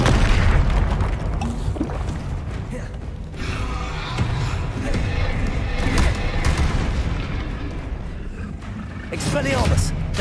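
A Confringo fire spell blasting in Hogwarts Legacy combat against a troll, heavy booming impacts and crashes over dense battle noise, with a voice shouting spell names throughout.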